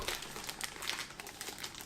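Cardboard and plastic packaging of a Panasonic Lumix G9 camera box being unwrapped, with close, continuous crinkling and rustling in irregular bursts and no voices.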